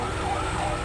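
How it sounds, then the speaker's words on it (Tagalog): An ambulance siren wails steadily in a continuous tone, heard at moderate distance during a fire rescue in Pasig with no talk over it. "Ambulansya yata."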